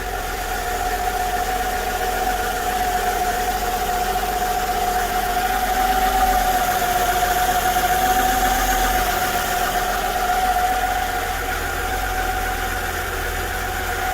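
A Mercedes M112 V6 engine idles steadily, a constant low hum and a sustained mid-pitched drone, loud and close, with no talking.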